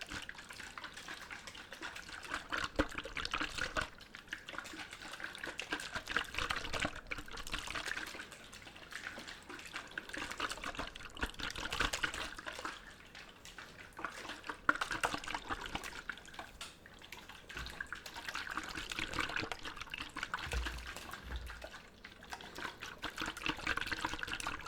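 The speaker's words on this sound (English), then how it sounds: "How does one effectively shake a water container to make some good sloshing sounds?" Water sloshing inside a container shaken up and down, a steady, close liquid churn that continues without pause through the whole stretch, with no talking.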